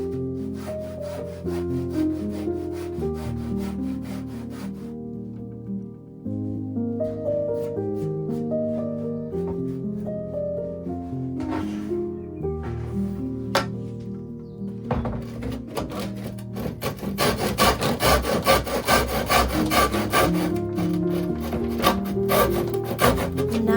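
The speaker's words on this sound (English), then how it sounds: "I will be using a B40 sandpaper to remove the varnish and" Coarse B40 sandpaper rubs varnish off a wooden countertop in rough, repeated strokes. The sanding grows louder and denser toward the end and is heard over tonal background music.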